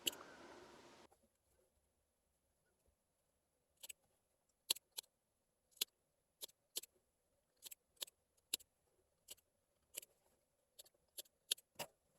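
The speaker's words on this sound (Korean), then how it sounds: "목 부분 곡선 있으니까 가위집 내주고요" Scissors snip notches into the curved neckline of a simple homemade dress: about fifteen crisp, close snips in an uneven rhythm after a brief burst of noise at the start, with no talking.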